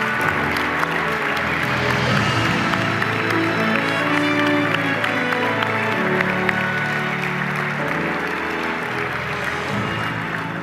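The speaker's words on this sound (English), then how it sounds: "let's give John Turpak, a great reporter, a great round of applause" A conference audience applauds a reporter being honored, a dense, steady wash of clapping with some crowd noise that holds at an even level for the full length, near and loud.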